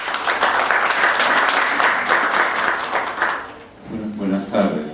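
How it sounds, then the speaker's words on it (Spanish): An audience at a book presentation applauds for professor Marco Martos, a dense, loud wave of clapping that fades after a few seconds as a voice begins speaking. "Palmas para él."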